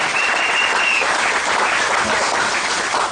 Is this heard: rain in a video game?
no